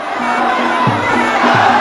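A dense, loud crowd at a Muay Thai title bout in Thailand roars and cheers continuously, with swelling shouts and yells in several surges.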